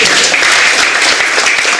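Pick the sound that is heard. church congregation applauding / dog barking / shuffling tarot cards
church congregation applauding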